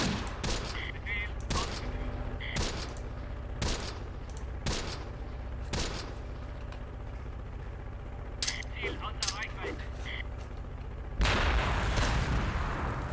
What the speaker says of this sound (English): It's a 30 cal heavy machine gun.